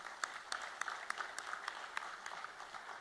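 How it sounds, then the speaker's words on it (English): A small audience at a coding award ceremony claps faintly and sparsely, with individual hand claps standing out in an uneven rhythm at a distance, with no talk. "Let's give a big round of applause for Jana and Ashok."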